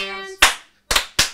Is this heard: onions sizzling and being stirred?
no